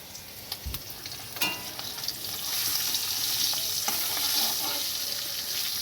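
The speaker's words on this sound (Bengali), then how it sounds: "একদিকে আমি সিলভারের থালাতে পাঁচফোড়ন ভেজে নিচ্ছি ফোড়ন দিয়ে এটা টক ডালের ফোড়ন হবে" Panch phoron spices fry in a steel plate on a gas burner for a sour dal tempering, crackling softly at first and then settling into a steady, close sizzle with occasional clicks.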